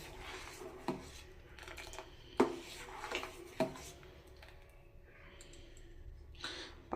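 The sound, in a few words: stirring rice payesh with jaggery in a steel bowl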